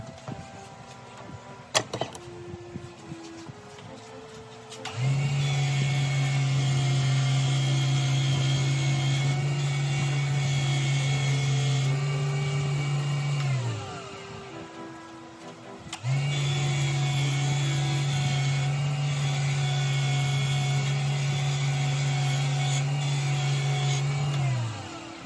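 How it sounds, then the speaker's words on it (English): A pen-turner's buffing wheel spins up with a steady, loud mechanical hum and whine, runs for several seconds, winds down, then starts again for a second long run, close by with no talk. "let me see if I can angle you to where you can see my buffing wheel"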